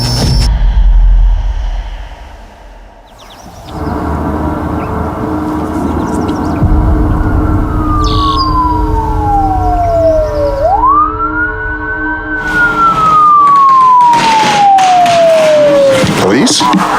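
Police car sirens wail as three police cars arrive at a barn, loud and close, with a long sweeping tone rising and falling over engine rumble and background voices.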